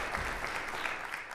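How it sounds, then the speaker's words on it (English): A brief burst of audience applause at a Virginia governor's VA250 leadership council announcement event, moderately loud and even clapping from a crowd in a hall, with no speech over it. "I think that deserves an applause."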